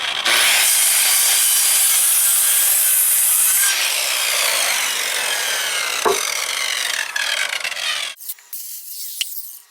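Loud, close hand sawing through a wooden deck post to cut notch slots, a long run of rapid raspy strokes that slows and breaks into scattered scrapes and knocks near the end.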